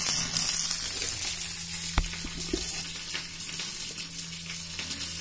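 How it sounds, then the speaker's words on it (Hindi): Curry leaves, mustard seeds and dried red chilli hiss and sizzle in hot white oil for tempering a chana dal, almond and coconut chutney, with a steady loud frying crackle and a few clinks. "बस इसी का छौंका लगा देना"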